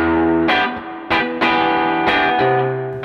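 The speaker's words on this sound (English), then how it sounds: "when I push the overdrive, the notes remain articulate" Electric guitar played through the overdrive channel of a Fender Hot Rod Deluxe IV tube amp, with several loud, sustained distorted notes and chords struck in turn, each ringing out before the next.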